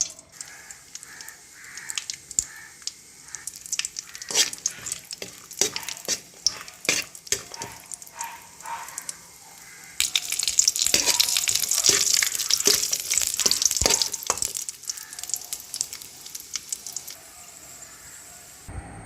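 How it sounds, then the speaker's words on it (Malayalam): Steady sizzling with frequent clinks and scrapes of a spoon stirring nuts and raisins roasting in ghee in a pan, growing louder and busier midway, with no voices. "ഇതിലേക്ക് കുറച്ച് നട്ട്സും മുന്തിരി എടുത്ത് വെച്ചിട്ടുണ്ട് ഇത് നമുക്ക് ആ നെയ്യിലൊന്ന് വറുത്തെടുക്കാം"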